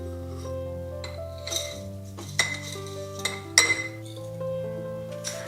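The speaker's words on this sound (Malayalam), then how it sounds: "കണ്ട കല്ലുപ്പിട്ട് ഒന്ന് മിക്സ് ചെയ്യാം." Glass jar of kanthari chillies being mixed with rock salt, giving repeated bright clinks and taps of glass and utensil, fairly close and clear with no voices.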